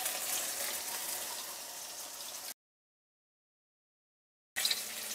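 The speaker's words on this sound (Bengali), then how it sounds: "এই তেলের মধ্যে আমি শাক ভেজে নেব" Chopped amaranth greens frying in plenty of oil in a wok give a steady, hissing sizzle, broken by a stretch of total silence before the sizzling resumes briefly.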